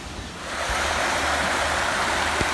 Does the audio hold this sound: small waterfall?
yes